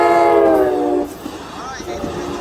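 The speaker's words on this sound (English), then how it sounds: "That train is going to Sacramento." An Amtrak Capital Corridor train with an SC44 locomotive, bound for Sacramento, passes the Fruitvale Avenue railroad crossing. A loud horn blast sounds for about the first second, then close rumbling wheel and rail noise continues.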